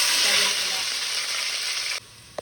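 Crushed green chilli, ginger and garlic fry in a pan with a loud, steady sizzle as they are stirred. The hiss drops suddenly near the end.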